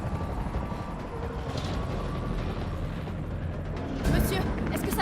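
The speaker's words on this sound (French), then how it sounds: "L'hélicoptère va vous conduire en lieu sûr." A helicopter in a zombie film rumbles steadily as a dense, continuous low drone, with a louder burst near the end.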